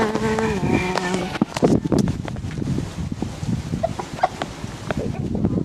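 Chickens cluck and call around a coop, with insects buzzing close by and uneven bursts of activity throughout.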